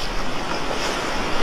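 Sea waves at high tide on the beach at Cox's Bazar, a steady, loud wash of surf with no talking.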